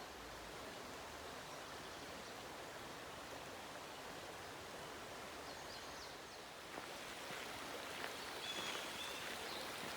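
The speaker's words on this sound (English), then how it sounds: "look at this Babylon Brook." Babylon Brook on the Appalachian Trail between Waynesboro and Boiling Springs, a soft, steady flowing wash of water, faint and continuous, with a few light splashes toward the end.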